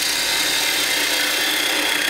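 A wood lathe spinning up while turning a wooden jack o'lantern pumpkin, a steady, dense hissing whir of the tool cutting wood, close and continuous with no talk.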